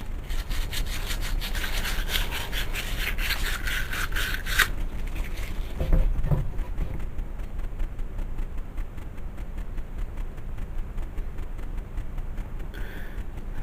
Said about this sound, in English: Sand on the handle a little.